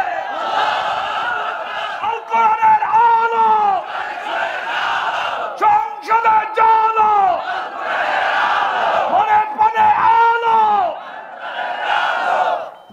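A large crowd at a religious gathering chants the takbir in loud unison, repeated rhythmic group shouts rising and falling in waves, with a leading voice calling between the responses.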